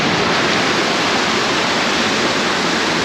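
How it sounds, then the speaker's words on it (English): A waterfall at the top of a mountain hike roars in a steady, dense rush of falling water, loud and close, with no other sounds breaking through. "I've made it to the top of the waterfall."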